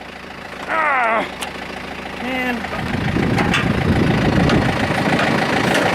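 A tractor engine idles outdoors in cold, snowy weather, with a steady close rumble building after a few rising whines at the start; a voice briefly speaks over it.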